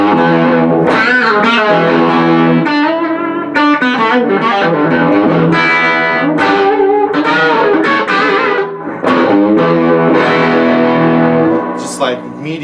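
A 1996 Rickenbacker 381 electric guitar on the bridge pickup with the tone switch up, played loud and distorted in sustained chords and ringing notes that fill the whole stretch.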